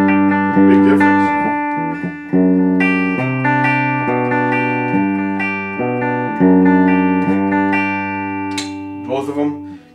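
Electric guitar through a DBZ Bolero bridge pickup with the coil tap off, playing a hot, sustained chordal riff with strong harmonics, loud and steady with fresh strums every couple of seconds and a brief scratchy flourish at the end.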